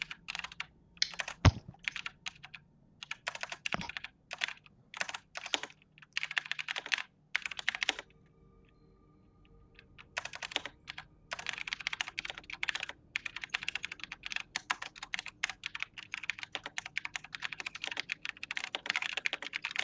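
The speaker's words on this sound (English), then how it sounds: "That's a lot of typing." Rapid typing on a computer keyboard, a dense clatter of quick keystrokes in bursts with a brief pause midway, close and clear with no voices.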